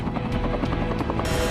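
A Cobra attack helicopter flies close by during an army gunnery exercise, its rotor thumping in a fast steady beat over a loud, constant engine whine.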